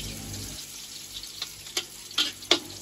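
Garlic sautéing in a pan, a soft low sizzle with a few sharp scraping clicks from stirring near the end, close and quiet.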